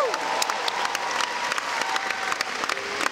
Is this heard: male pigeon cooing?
no